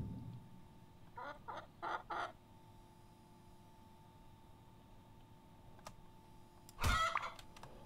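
Several short clucks from a bird in the video game Elsewhere, fairly faint, followed after a quiet stretch by a sharper louder burst of noise.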